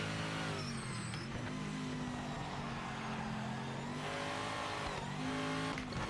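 Race car engine in Project Motor Racing, GT Icons pack, drones steadily and loudly throughout, holding high revs with shifting pitch and a brief dip near the middle, no voices over it.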